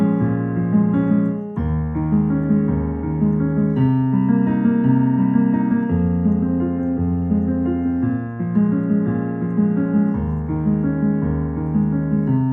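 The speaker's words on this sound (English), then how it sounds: "somebody else can do a little arpeggiation of those chords with the left hand and right hand" Piano arpeggiating the chorus chords of a song with both hands and sustain pedal, a steady flowing pattern of broken chords ringing together, moderately loud with no voice over it.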